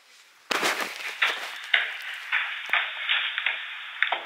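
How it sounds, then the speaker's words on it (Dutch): A Ring video doorbell chime plays at a home front door. It is a loud, bright run of repeated ringing tones with sharp attacks about every half second, and no voices are heard. "Wel leuk zo'n ringbel."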